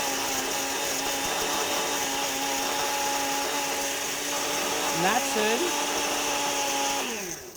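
A blender purees ice for a tequila cocktail in a loud, continuous whir with steady tonal hum, a brief pitch wobble as the load shifts, then winding down at the end; a word of talk is heard.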